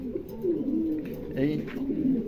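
Pigeons of a rare new breed offered for sale at a pigeon farm coo softly and repeatedly, the low rolling calls close by and continuous across the moment.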